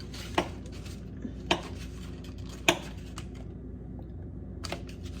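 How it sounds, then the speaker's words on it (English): A fork presses and breaks up cold butter in a bowl for fall bread dough, giving a few sharp metallic clinks against the bowl, spaced about a second apart, with quiet scraping between. "I'm just taking my fork, and if you can see that, I'm just pressing that or breaking that up"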